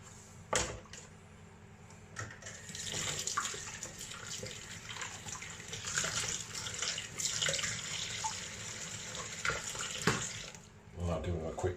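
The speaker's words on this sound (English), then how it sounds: "I used these tongs earlier on partially raw sausages, so I'm going to give them a good wash now" Cooking tongs are washed under a running kitchen tap, with a steady faint splash of water and occasional metallic clinks and knocks close by.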